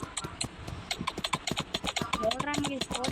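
Rapid clip-clop of horse hooves galloping in a video game horse race, a dense quick rhythm of sharp close hoofbeats running throughout with no talk over them.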